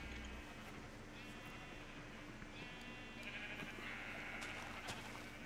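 Sheep in Minecraft give a few short, faint bleats over a steady background of game ambience, with one near the middle and more toward the end, and no one talking over them.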